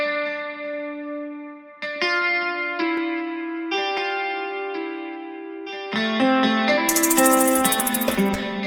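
A guitar part for a hip-hop beat plays with mixing effects added, its sustained chords coloured by distortion, echo and chorus, shifting every second or two and swelling into a brighter, denser wash near the end.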